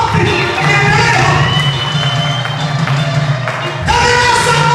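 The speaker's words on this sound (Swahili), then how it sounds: "Pigia Mungu makofi." A congregation claps and cheers at an overnight church service, with dense, continuous crowd noise and rhythmic clapping throughout. Voices swell again near the end.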